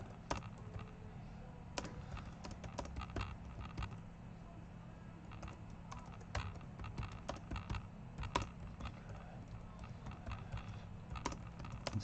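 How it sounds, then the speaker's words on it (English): Steady typing on a computer keyboard, with sharp irregular key clicks in a continuous quick patter over a low background hum, close and moderately quiet. "Let me type a little bit."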